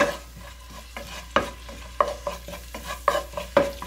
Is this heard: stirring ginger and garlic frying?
yes